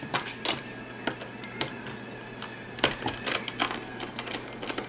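Light clicks and faint ticking of screws being backed out of a Kirby Avalir 2 vacuum, a scatter of small sharp taps at irregular intervals over a quiet background hum.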